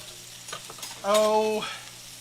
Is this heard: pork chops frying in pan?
yes